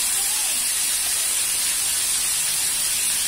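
Water sizzling and hissing steadily in a covered pan while ratalu (purple yam) pieces steam, a continuous close, even hiss with no talk.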